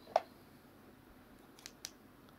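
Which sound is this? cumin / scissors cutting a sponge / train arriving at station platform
scissors cutting a sponge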